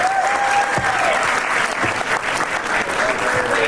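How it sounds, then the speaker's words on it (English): Loud, dense applause from a comedy show audience greets the headliner, a full crowd clapping continuously and close with some faint cheering mixed in. "Give a big round of applause for your headliner, Mr. Avi Liberman"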